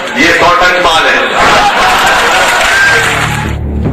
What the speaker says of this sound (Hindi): अभी दिग्विजय सिंह ने जो कहा उस पर जिस तरह तालियां बजी, ये 100 टन माल है और ठहाके लगे